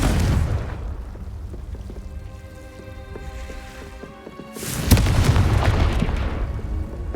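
A Confringo spell explosion in the Hogwarts Legacy video game: a booming fiery blast with a crackling, rumbling tail. A second loud burst follows a few seconds later and settles into sustained noise.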